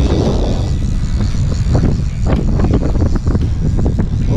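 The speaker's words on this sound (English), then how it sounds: "Super windy out here." Strong wind buffeting the microphone on Lake Erie aboard a fishing boat, a loud, constant roar and rumble throughout with rustling gusts and faint knocks beneath it.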